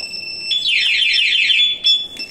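A scooter's anti-theft alarm sounds close by, a warbling, sweeping siren tone after a few short beeps, loud and shrill, with no talking.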